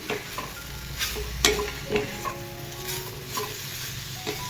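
Pathadi (ambai) bean pods roast in half a spoonful of oil in a pan, giving a steady close sizzle broken by sharp stirring scrapes and clicks of the spatula throughout.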